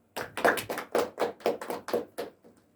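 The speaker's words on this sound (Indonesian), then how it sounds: "Kita beri aplaus untuk Bapak Eka" An audience claps in short, rhythmic bursts, about nine quick pulses over roughly two and a half seconds, fairly close and moderately loud, fading out at the end. It follows a company announcement honoring Bapak Eka.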